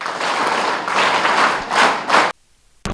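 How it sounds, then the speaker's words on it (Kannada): A loud, dense round of applause from an audience at a school teachers' felicitation ceremony, sustained clapping swelling in waves for about two seconds before cutting off abruptly into silence, with a brief burst returning at the end. "ನಿಮ್ಮ ಪರವಾಗಿ ಜೋರಾದ ಒಂದು ಚಪ್ಪಾಳೆ"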